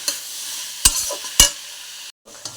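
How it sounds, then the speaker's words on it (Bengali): Chopped onions are stirred in hot oil in a pan with fried tomato. A low sizzle runs under a few sharp, loud spatula knocks and scrapes, then a short silence before the frying resumes. "পেঁয়াজগুলো দিয়ে খুব ভালোভাবে আবার নেড়ে চেড়ে নিচ্ছি।"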